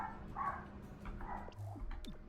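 Several faint dog barks and yips in XCOM: Chimera Squad, short and scattered across a low, steady game ambience.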